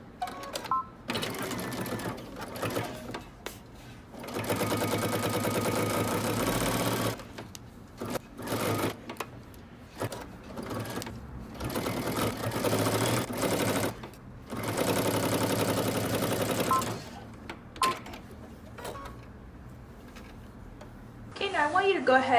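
A sewing machine stitches neck binding onto a dress neckline in long steady whirring runs, close and loud, broken by short pauses with faint background sounds between stitching bursts.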